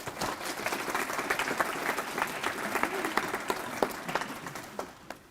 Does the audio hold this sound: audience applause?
yes